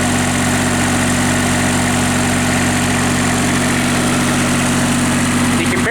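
Engine idling, a steady loud droning hum with a constant low tone, close and unchanging throughout.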